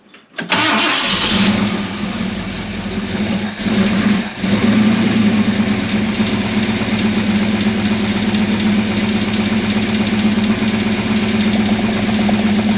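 An XC Ford Falcon panel van engine with a newly fitted carburettor cranks, catches and settles into a loud, steady close idle that runs on uninterrupted.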